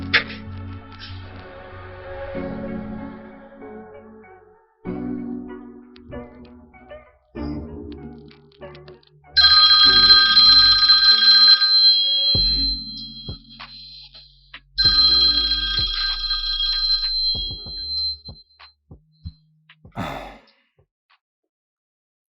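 A telephone rings in two long loud bursts, separated by a pause and set among quieter rustling and breathy sighs in a room, before the ringing stops.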